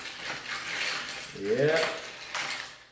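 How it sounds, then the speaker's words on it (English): A spoon stirs a classic Manhattan cocktail over ice, giving a steady metallic clinking and swirling rattle. A brief spoken word sits over it partway through. "So just grab my spoon and just stir it,"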